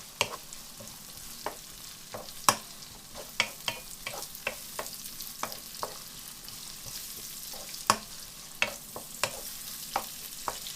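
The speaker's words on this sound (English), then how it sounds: "I literally just add it to the onions, the ginger. I just stir it in." Grated ginger stirred into onions frying in a pan for an organic vegetable curry, a soft continuous sizzle broken by frequent sharp spoon clicks and scrapes, near and steady with no talking.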